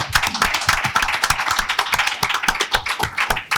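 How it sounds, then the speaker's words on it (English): An audience at a panel session on war applauds steadily, a dense, loud patter of many hands clapping continuously without talk. "one more round of applause"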